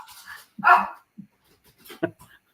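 A French bulldog barks at something outside, a few sharp close barks with short pauses between them, fairly loud.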